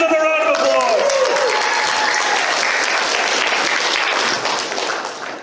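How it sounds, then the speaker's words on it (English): An open mic comedy crowd breaks into loud applause for a comedian, a dense, sustained wash of clapping with some whoops that begins right after a voice and tapers off at the very end. "Give them a round of applause."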